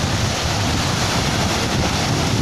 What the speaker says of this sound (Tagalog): tingnan nyo naman dagat, maalon siya